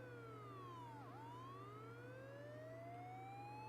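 A video game siren wails continuously, its pitch dipping sharply and then climbing again, with no voices over it.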